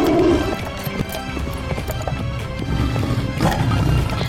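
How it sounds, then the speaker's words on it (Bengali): A fast cartoon horse-drawn chariot gallops with a king and minister aboard, fleeing a tiger. Loud rhythmic hoofbeats and rattling run under a dramatic roaring, rumbling backdrop. "ঘোড়ার রথ নিয়ে খুব জোরে জোরে দৌড়তে শুরু করে।"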